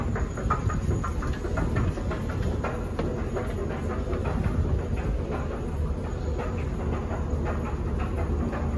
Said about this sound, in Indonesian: Kita langsung masuk menuju peron, di mana kita akan menaiki MRT menuju Taman Midah.